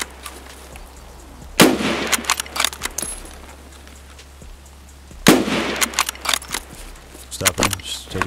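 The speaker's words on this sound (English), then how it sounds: "Shots." Gunfire in the video game Escape from Tarkov, with two loud bursts of shots cracking close by, each followed by scattered echoing reports and a few sharp later shots, alongside low game ambience.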